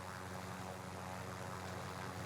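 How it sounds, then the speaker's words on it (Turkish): A helicopter in the Call of Duty Warzone video game gives a constant, dense rotor and engine drone, steady and faint, with no talking over it. "Helikopter sürüyor adam."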